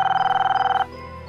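A telephone bell rings nearby in a rapid, even trill of about a dozen pulses, then cuts off abruptly, leaving a quiet room tone.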